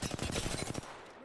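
Rapid automatic gunfire in the Apex Legends video game, a quick burst of evenly spaced shots lasting under a second before cutting off.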